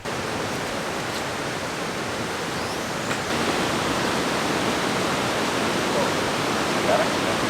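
Steady, dense roar of a river waterfall pouring without pause, loud and close, filling the whole scene with constant broadband noise.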